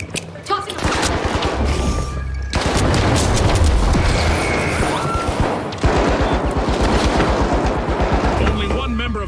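A frag grenade in the shooter game The Finals produces heavy blasts within dense bursts of automatic gunfire, loud and close, with a voice speaking over the fighting.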